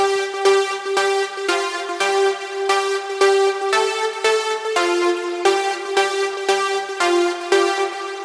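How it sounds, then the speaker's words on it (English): Layered synth lead built from Vital and Omnisphere patches, a bright, buzzy tone repeating short rhythmic notes at a steady pulse, clear and alone without talk. "these together are the lead that goes over the bass line"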